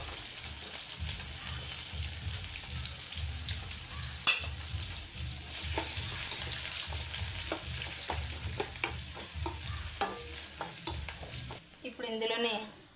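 Chopped onions frying with chana dal in a pan, a steady loud sizzle with repeated scraping stir strokes throughout, near and without talk, with a brief clatter near the end.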